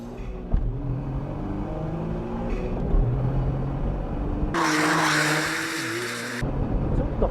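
An HKS-tuned Honda S660 pulls away on a mountain road, its small engine droning and then rising in pitch as it accelerates hard, with a louder, brighter burst of engine roar and tire noise partway through.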